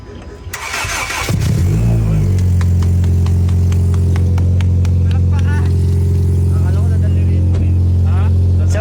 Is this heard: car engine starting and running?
yes